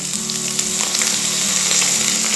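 Chopped radish, with its leaves, drops into a hot pan for bhujiya and fries with a loud, close, continuous sizzle and faint stirring.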